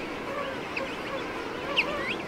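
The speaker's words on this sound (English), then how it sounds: "Sheathbills are one of the few other birds to thrive here." Sheathbills in Antarctic snow give harsh, honking squawks, a few scattered calls rising over a steady background hush at moderate distance.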